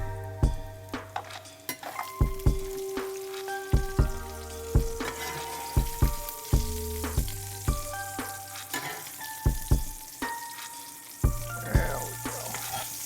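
Mushrooms frying in a skillet, a steady sizzle broken by repeated sharp clinks and scrapes of a utensil against the pan, with ringing metallic tones throughout.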